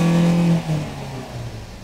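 A smoking car engine with suspected injector trouble revs hard for about half a second when the accelerator is pressed, then drops back and settles into a lower, fading idle.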